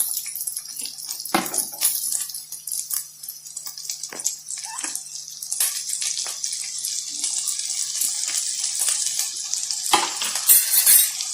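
Sliced onions hitting hot coconut oil in a Kerala kitchen during crab curry preparation, giving a steady close hiss and sizzle with scattered clinks and stirring scrapes throughout, and a sharper burst near the end.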